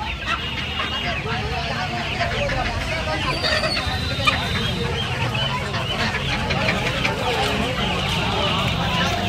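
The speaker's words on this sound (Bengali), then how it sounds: "একটা দেশি মোরগ দেখতে পাচ্ছেন" Desi roosters and hens cluck repeatedly amid the constant crowd babble of the Uluberia poultry market, with people talking throughout.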